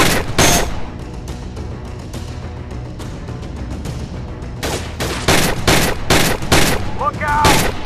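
A gold AK47 assault rifle fires in the VR shooting game Gun Club VR, sending loud sharp shots close by. A few single cracks give way to quieter stretches, then several rapid bursts near the end.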